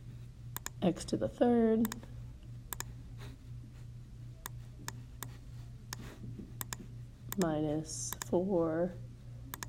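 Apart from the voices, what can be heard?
pressing keys on a calculator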